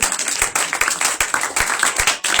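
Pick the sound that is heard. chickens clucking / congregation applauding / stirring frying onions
congregation applauding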